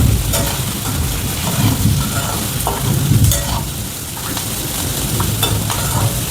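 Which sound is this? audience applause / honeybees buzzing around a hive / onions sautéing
onions sautéing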